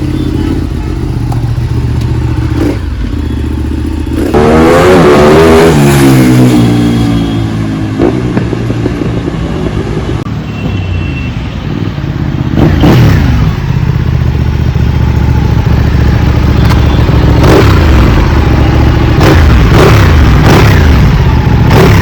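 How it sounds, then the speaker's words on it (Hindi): Ducati Panigale superbike with a de-catted stock exhaust revving hard, loud and close, with rising and falling throttle sweeps and crackling bursts over a steady engine drone. "ये थी कुछ आवाज़ डुकाटी पैनिक आले की with stock exhaust but D cat."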